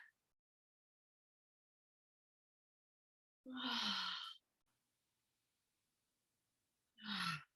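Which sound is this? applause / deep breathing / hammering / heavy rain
deep breathing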